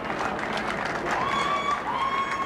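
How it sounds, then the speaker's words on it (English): Crowd applauding and cheering at a 2002 World's Strongest Man event, a steady dense wash of clapping and voices with a whistle-like tone rising over it partway through. "The crowd's trying to get behind Mariusz."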